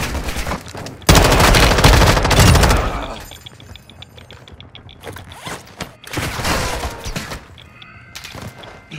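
Bursts of automatic gunfire crackle through a Call of Duty: Modern Warfare II firefight, with a loud, dense volley early on, quieter scattered shots after it, and another heavy burst near the end.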